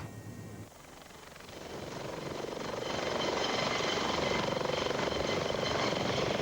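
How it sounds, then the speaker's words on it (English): A helicopter's rotor and engine noise builds up and then holds at a steady, loud thrumming drone, as heard from nearby or on board. "It was a half-hour helicopter journey for us to Bannesson in the west of Mull"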